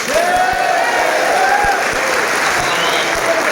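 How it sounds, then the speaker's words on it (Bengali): A large crowd at a political meeting of the Awami Jubo League claps loudly and continuously, with a steady dense wash of applause and a few voices mixed in. "সবাই একটা তালি দেন।"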